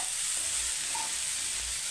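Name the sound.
okra frying in a pan with peanuts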